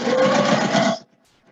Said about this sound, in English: I'm going to sew right past that and ignore that curve.